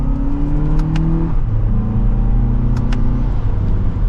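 A 2024 Lexus TX500h F Sport accelerates hard in sport mode, second gear, its engine droning loud and close with rising tones, a brief drop at a shift, then climbing again over road rumble.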